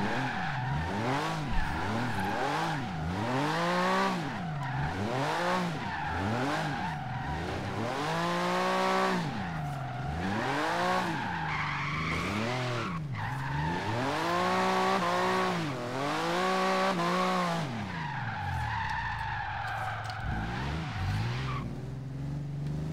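A 970 hp 1995 Porsche 911 GT2 drifts in Forza Horizon 3, its engine repeatedly revving up and dropping in long sweeping waves while tires squeal and skid loudly throughout, with no talk.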